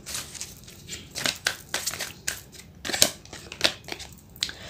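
A tarot card is drawn from the deck with soft, crisp rustles and papery snaps, several short scraping flicks close by and quiet, with no one talking.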